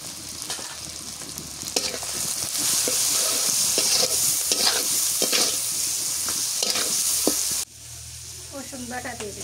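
Surma sea-fish curry with turmeric and salt frying and being stirred in a pan outdoors on a village morning, a loud steady sizzle with scraping strokes that suddenly drops off near the end.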